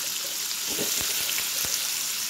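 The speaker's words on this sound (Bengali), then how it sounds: "কুমড়োটা আর আলুটা ভেজে নিচ্ছি প্রথমে" Pumpkin and potato pieces frying in rice bran oil, a steady close sizzle with a few soft stirring knocks, no voices.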